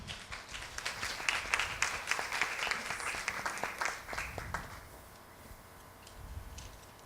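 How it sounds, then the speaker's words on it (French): Applause from a round-table audience, steady broadband clapping for about five seconds, then thinning into a few scattered claps before fading out. "Nous applaudissons Mireille."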